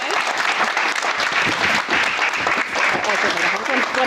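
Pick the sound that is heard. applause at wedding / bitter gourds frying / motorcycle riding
applause at wedding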